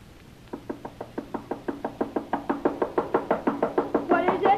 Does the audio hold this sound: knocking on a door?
yes